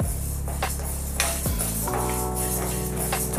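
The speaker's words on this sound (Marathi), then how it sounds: "मूग डाळ भाजून घेऊया थोडीशी." Moong dal dry-roasts in a pan over very low heat, stirred with a utensil that clinks and scrapes against the metal in a few sharp taps over a faint background.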